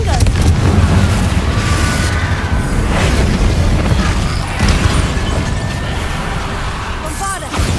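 Confringo spell explosions while fighting Inferi in Hogwarts Legacy, a steady barrage of loud booming blasts and crashes that rumbles continuously with dense combat noise layered throughout.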